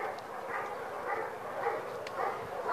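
Dogs at an animal shelter bark in steady, repeated bursts close by, with yips mixed in over a constant background din of other kennel noise.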